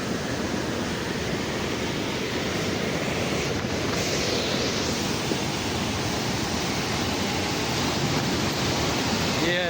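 A swollen stream in Kashmir rushes after heavy rain and wind, a loud, steady broadband roar of churning water that holds unbroken throughout, close by and with no talk over it.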